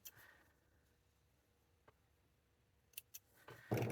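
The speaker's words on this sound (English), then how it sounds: "Trim the ends" Scissors trimming the ribbon ends of a double-layered fabric headband bow: a few quiet, brief snips spread across an otherwise near-silent moment, closing with a louder handling rustle.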